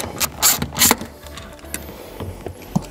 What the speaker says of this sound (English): We'll use the 10 millimeter to loosen this.